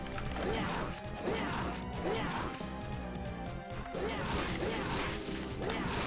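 Cream pie weapon striking in Castlevania: Portrait of Ruin, repeated smashing hits over busy game music and effects, loud and continuous.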